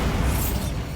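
Bombarda spell in the Hogwarts Legacy video game, a dense, rumbling explosion burst with a broad low boom that holds for about a second at steady loudness.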